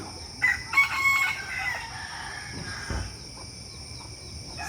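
A rooster crows loudly nearby, with its long cock-a-doodle-doo rising and fading, followed by quieter clucking and background birds.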